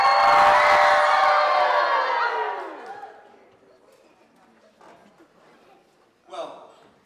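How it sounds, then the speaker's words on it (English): A children's audience at a kids show screams together on cue, a loud, sustained burst of young voices that fades out after about three seconds, followed by quieter murmuring and a brief later shout. "Another deep breath and everybody scream!"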